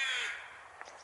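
A crow caws once in Lincoln Park, a harsh, loud call that fades out over the first half-second, followed by a brief, fainter second note; no voices.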